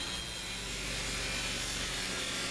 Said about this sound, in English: I'm using a heavier sanding drum so that I can go ahead and rough up that brass